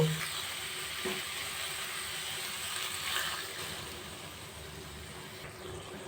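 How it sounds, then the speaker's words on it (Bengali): Water from a small bowl poured into a pan of spices frying over a raised gas flame for thoda ghonto, a steady sizzle and bubbling hiss that slowly softens, close and alone. "এবার ছোট বাটির এক বাটি জল দিয়ে দেব"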